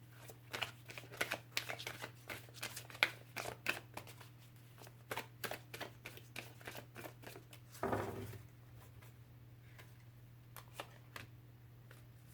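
Angel oracle cards being shuffled: a long run of quick, light papery riffles and flicks, close and fairly quiet, with a short louder rustle partway through and no talking.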